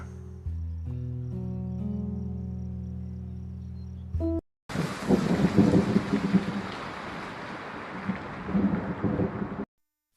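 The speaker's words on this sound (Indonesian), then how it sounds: "Di tengah derasnya hujan" Heavy rain in a film scene: a broad, dense wash of falling rain that comes in abruptly after a brief musical passage and stays loud and steady for about five seconds before cutting off.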